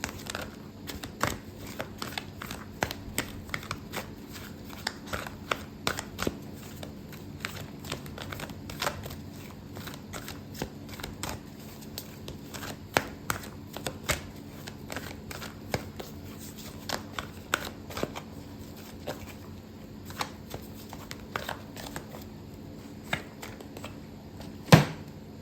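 Tarot cards shuffled by hand over many seconds, a quiet, continuous riffle of dense crisp clicks and rustles close to the mic, with no one talking.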